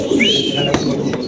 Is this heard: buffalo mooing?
no